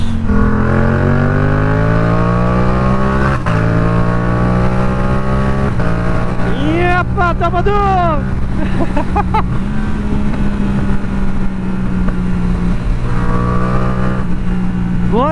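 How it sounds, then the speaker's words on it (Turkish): A loud Yamaha R7 motorcycle engine idles and revs with steady harmonic drone, punctuated by sharp crackling pops and bursts from the exhaust in the middle stretch. "egzoz patlama sesi geliyor"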